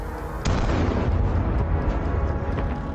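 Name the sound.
tank exploding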